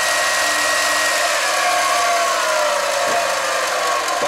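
A Chinese mini lathe running in high gear at up to around 2,500 RPM gives a loud, continuous motor whine with a steady mechanical hum, unbroken and close throughout.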